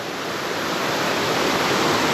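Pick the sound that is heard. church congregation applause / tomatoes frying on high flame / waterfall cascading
waterfall cascading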